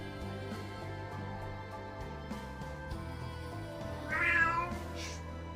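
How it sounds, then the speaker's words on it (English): Indoor cat gives a single short meow near the end, faint against a low background hum. "Don't pay any attention, that's my cat"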